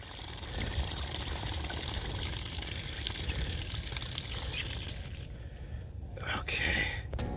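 Water gushes steadily through a repaired galvanized water line being flushed out, a loud continuous rushing hiss that cuts off abruptly near the end, followed by quieter spluttering and dribbling.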